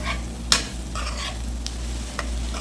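Chilli chicken stir-fries in a pan, a soft steady sizzle broken by a few sharp scraping and clanking strokes of a spatula, close and without talk.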